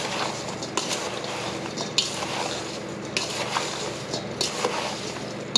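Sugar being stirred into an apple-rhubarb crisp filling in a bowl, a continuous moist squishing and scraping with occasional utensil clinks, close and steady with no voice.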